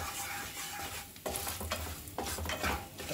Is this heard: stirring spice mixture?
yes